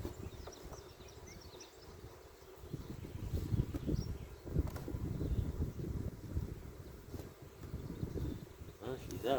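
Honeybees hum steadily around a hive during a virgin queen introduction, a close, continuous buzzing with brief louder swells as bees pass near, and a voice speaking over it at times.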